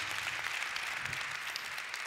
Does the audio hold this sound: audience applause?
yes